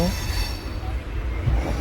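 A passenger train rolls through the night on a pilgrimage trip to Ajmer Sharif, its wheels grinding and faintly squealing on the rails in a steady, close, loud rumble.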